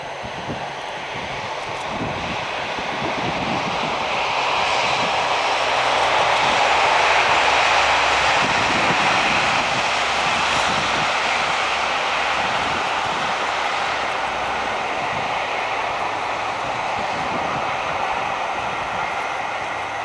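A Western class diesel-hydraulic locomotive, D1015, climbs Shap with a charter train, a sustained broad engine roar that swells to a loud peak midway and holds steady, heard from outside with no talking.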